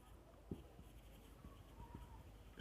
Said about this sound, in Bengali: আমরা লিখবো সত্যক সারণী হতে প্রাপ্ত, এখানে লিখি